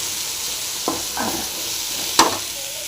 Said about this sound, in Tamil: கொத்தமல்லி தழை போட்டு அதையும் போட்டு நல்லா ஃப்ரை பண்ணிக்கலாம்.